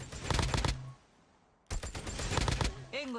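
Two rapid bursts of automatic gunfire fire thermite rounds in COD Mobile. The shots are loud, closely spaced and separated by a brief pause, with faint game sound effects at the end.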